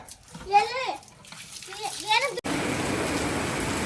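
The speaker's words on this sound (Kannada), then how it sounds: "ಇವತ್ತು ಎಷ್ಟು ಜೋರಾಗಿ ಮಳೆ ಬರ್ತಾ ಇದೆ ಅಂತ" Someone talks briefly, then a dense, steady hiss of heavy rain takes over, loud and continuous.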